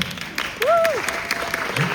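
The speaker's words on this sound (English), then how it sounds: "I want some applause for that." Audience applause at a film festival panel discussion, a brief burst of clapping from the crowd lasting about two seconds, with a faint whistle-like tone over it.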